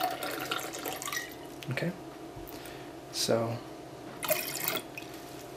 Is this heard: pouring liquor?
yes